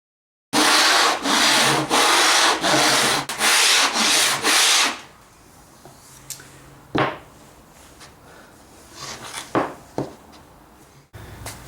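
Hand sawing through scrap wood for miter cuts on a tiny stool, steady rapid back-and-forth strokes loud and close for about four seconds, then stopping, followed by quieter scattered knocks and handling noises.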